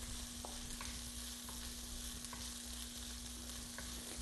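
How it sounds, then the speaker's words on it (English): Vegetables with ginger sautéing in a pan for a vegetable curry: a steady, even sizzle throughout with a few faint clicks of stirring, with no one speaking. "And you just saute it in this pan."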